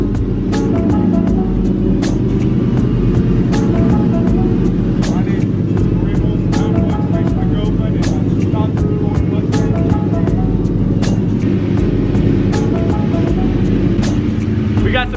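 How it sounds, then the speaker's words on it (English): A built Mustang and a tuned Hyundai Genesis with a cold air intake, tune, downpipe and 3-inch exhaust at a night street race. Loud, continuous engine roar and rumble runs throughout, with crowd voices mixed in. "We got the Mustang, the built Mustang versus tuned Genesis."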